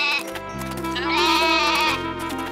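A cartoon goat lets out a single drawn-out, wavering bleat, close and clear, with no talking over it.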